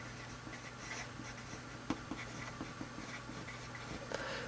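A pen or marker scratches steadily across a surface while a chemical formula for a magnesium compound is written out, with faint light taps in a quiet room.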